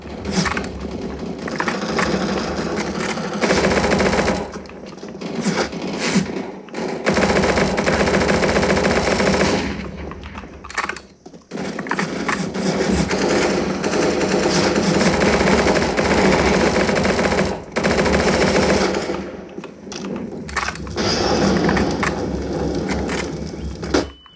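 Rapid automatic gunfire in the video game CSGO, played on a budget gaming PC with no dedicated graphics card, dense sustained bursts of shots with a few short gaps, loud and continuous throughout.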